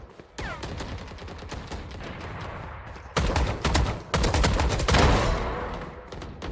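Rapid bursts of gunfire in Valorant, from burst strafe shooting on the Ascent map: short volleys of sharp cracks, denser and louder in the second half, close and dominant with no talking.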